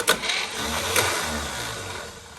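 The starter of a Chevy 230 inline six, unrun for 35 years, cranks briefly, grinding with a mechanical whir and clatter, close by and fairly loud, with no engine catching.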